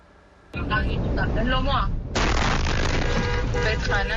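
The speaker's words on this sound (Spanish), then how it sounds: "muestra la explosión tras el impacto de un misil balístico iraní en una carretera cerca de Ashdod" Iranian ballistic missile striking a road near Ashdod, filmed from a car: a sudden loud blast followed by a long roaring rumble and a second surge of noise, with voices shouting over it.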